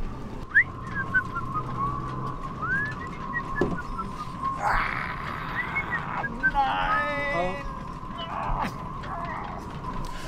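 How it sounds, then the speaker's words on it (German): Whistling aboard a sailboat: several short rising and warbling whistled notes over a steady high tone and faint background noise, with quiet sounds in between. "Mit dem Pfeifen an Bord ist das so eine Sache."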